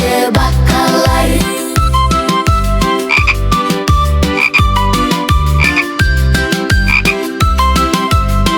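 Loud, rhythmic frog croaks in a children's cartoon song, repeating on a steady beat over a musical backing and layered with cheerful instrumental tones throughout.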